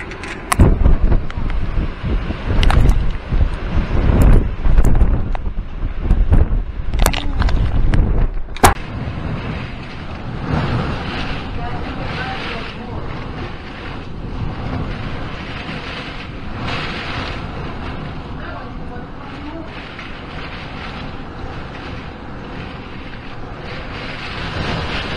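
Hurricane Dorian's winds strike Sapphire Beach on St Thomas in the Virgin Islands, with loud, sharp gusts and impacts early on, then a steady, roaring rush of wind buffeting the microphone for the remainder.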